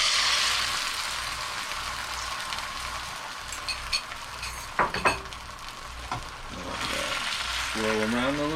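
An egg fries in a HexClad pan with a steady, close sizzle, broken briefly by a few light clinks and scrapes near the middle.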